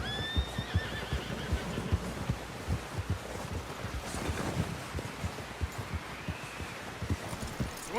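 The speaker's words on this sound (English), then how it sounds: "Someone help John down off this horse" A horse neighs and whinnies in Red Dead Redemption 2 amid rhythmic hoof clip-clops and low thumping, a busy game-style mix with no talking.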